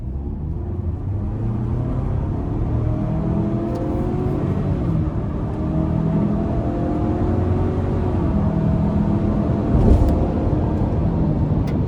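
A 2024 Ford Ranger XLT with the 2.3-litre turbo four-cylinder pulls under throttle from inside the cab, a steady engine drone with rising tones that climb and shift across the clip, with no talking.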